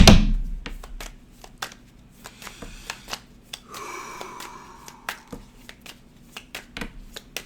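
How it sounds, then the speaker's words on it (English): Playing cards are shuffled in a burst, then a long series of crisp, irregular card flicks and snaps, close by. "One more shuffle."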